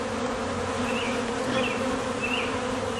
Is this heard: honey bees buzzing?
yes